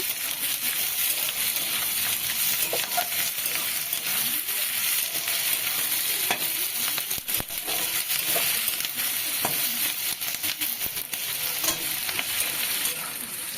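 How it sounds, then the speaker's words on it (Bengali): Onion, capsicum and chopped green chili fry with a loud, constant sizzle in a pan for chilli paneer, with repeated scraping and knocks as a spatula stirs them. "আমি ক্যাপসিকাম আর লঙ্কা কুচি দিয়ে দিলাম দিয়ে আরেকটু নেড়ে নেব"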